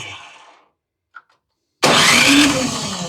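Snowblower engine with an electric start cranking, a brief click, then a loud steady whirring crank after a pause, close by and with no talk.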